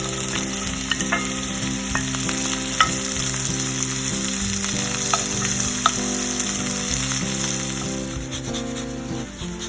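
Shrimp fry in olive oil and butter in a skillet with a strong, continuous sizzle and crackle, broken by scraping and stirring sounds, while a soft background hum runs underneath.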